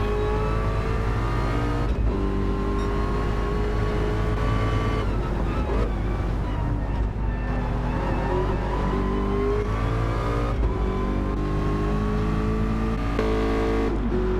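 Ford GT race car engine in the Gran Turismo 7 video game during a Bathurst endurance race, droning steadily with rising and falling revs and gear changes throughout, loud and continuous with no talk over it.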